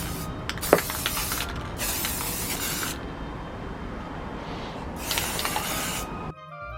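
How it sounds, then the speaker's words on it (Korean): Matte black spray paint hisses from a can onto a 3D-pen Fellbeast figure in three loud, close bursts of a few seconds each, with quiet gaps between them. "베이스 컬러로 무광 검정 스프레이 도장을 해줍니다."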